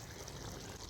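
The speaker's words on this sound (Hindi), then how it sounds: "इमली का पानी ऐड करेंगे" Tamarind water pouring into a pan of cooking mixed vegetables, a steady, close liquid trickle running without break for under a second, with no voices.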